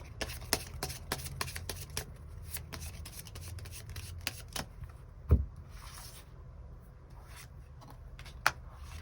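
Tarot cards drawn and handled close up, giving a run of quick, soft slides and flicks and papery rubbing, dense at first and then sparser with a few isolated snaps, quiet overall.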